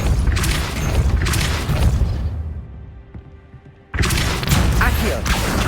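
The Depulso spell in Hogwarts Legacy lands as heavy booming blasts, with two loud bursts, a quieter lull and then another strong impact.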